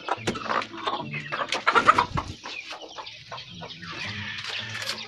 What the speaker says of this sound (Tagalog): Yung po yung mga inahin na may itlog.